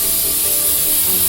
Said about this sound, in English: We just spray it again.